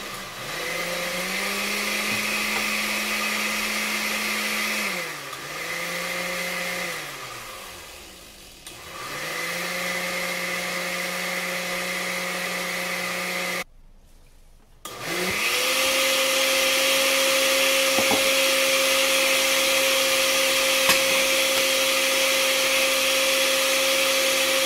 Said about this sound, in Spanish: aquí ya tengo el licuador.